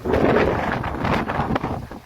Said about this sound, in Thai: เช้านี้ลมแรงมากเลยครับ ลมแรงจริง ๆ เลย